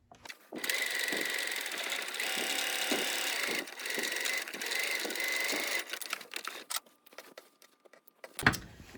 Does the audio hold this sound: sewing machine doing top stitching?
yes